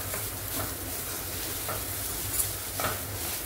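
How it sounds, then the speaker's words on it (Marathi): Grated coconut sautéing in ghee as a sweet filling sizzles steadily up close, with soft periodic scrapes of a spoon stirring it around the pan. "हे जे खोबरं आहे ते घालायचं आणि चांगलं परतून घ्यायचं तुपावर"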